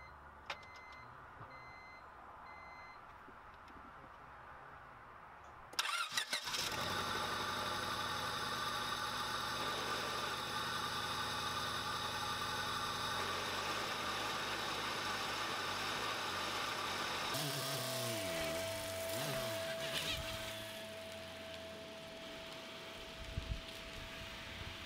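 A 1998 Honda Civic with a D16 engine, converted to a manual gearbox, starts abruptly after a quiet stretch and runs at a steady idle that settles lower near the end, loud and close with no talking.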